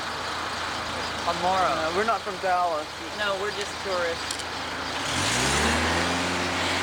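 City traffic passes through Dealey Plaza in Dallas, with a vehicle engine swelling up and rumbling close by at the end, after people talk briefly over a faint background hum.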